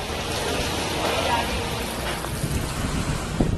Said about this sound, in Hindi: हरियाणा के हिसार में गुरुवार को तेज हवा के साथ बारिश हुई।